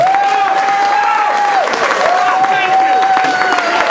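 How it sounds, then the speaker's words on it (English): Steady audience applause fills the room at a comedy show, with a sustained tone running through it and a voice heard faintly over the clapping. "Big round of applause for Alan Krasna."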